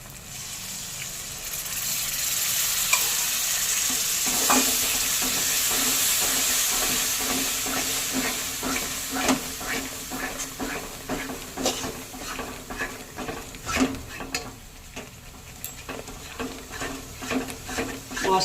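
Spice masala for a chhana kofta curry fries in a pan with a soft, steady sizzle and hiss, joined later by a run of quick scraping stirs against the pan, close and moderately quiet.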